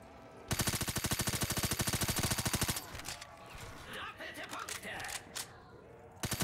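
Rapid automatic gunfire from Call of Duty: Black Ops 3 custom zombies mode rattles in a loud, even burst lasting a couple of seconds, then breaks into scattered shots and game effects as a voice talks.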